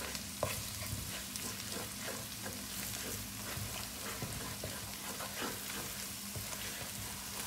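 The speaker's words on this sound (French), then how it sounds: "Je commence à mélanger petit à petit. Comme si on faisait des œufs brouillés, quoi." Eggs are stirred little by little in a hot pan for shrimp fried rice, a continuous close sizzle with soft, frequent scraping taps of the utensil.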